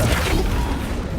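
A Flipendo spell cast in Hogwarts Legacy, heard as a dense, loud magical blast with a booming low rumble that fills the short moment without pause.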